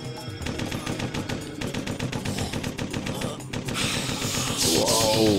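Shooting in the video game Corpse Killer, a rapid rhythmic run of gunshots like machine-gun fire, loud and steady, then giving way to a louder burst of mixed game noise at the end.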